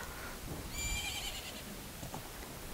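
A horse neighs in The Legend of Zelda: Majora's Mask, a brief high whinny over faint hoof clops and low background game ambience, quiet and distant.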